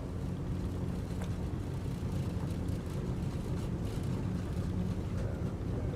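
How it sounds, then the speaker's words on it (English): Steady low rumble of an aircraft rolling down the runway on its takeoff run in Microsoft Flight Simulator, with full prop power applied, a continuous dense drone with rattling texture throughout and no talk. "Listen to the ground roll as well."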